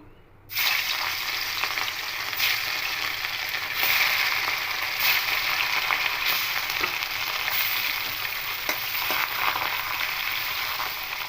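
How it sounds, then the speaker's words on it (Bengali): Rohu fish pieces frying in hot oil in a kadai, a loud steady sizzle that bursts in as the fish goes in and keeps crackling and hissing evenly throughout, close up with no talk. "কড়াইয়ে তেল দিয়েছিলাম তেলটা গরম হয়ে গেছে এবার মাছগুলো ভেজে নেবো"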